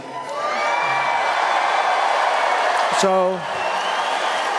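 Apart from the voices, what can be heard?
crowd cheering at rally town hall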